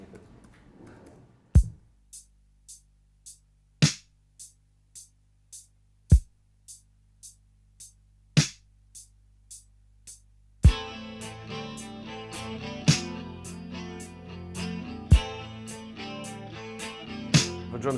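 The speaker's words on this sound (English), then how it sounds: "So I'm going to ask you to listen to some drum samples from each album." A dry, close-miked drum kit recorded for an album plays sparse, evenly spaced hits with a quick tick pattern, then the full groove comes in with denser cymbals and a tight, unreverberant sound.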